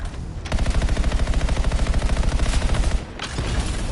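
Rapid automatic gunfire from a gun in the video game Anthem, a loud, fast, evenly spaced stream of shots running for about two and a half seconds before stopping, then a brief burst resumes.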